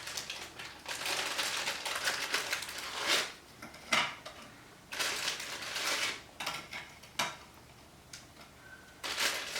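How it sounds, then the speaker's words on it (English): Graham cracker crumbs being poured and layered into a 9 by 13 inch pan, giving bursts of dry crunchy rustling and scraping that come and go, close by with no talk. "So the first thing I'm going to do is I'm going to layer my graham cracker crumbs in this 9 by"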